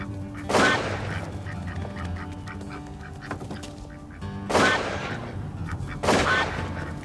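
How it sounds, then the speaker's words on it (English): Ducks quacking and flapping in a bayou video game as they are shot, three loud bursts of gunfire and squawking spaced across the clip over a constant background game ambience. "Sweet mother of pearl, she shot our ducks"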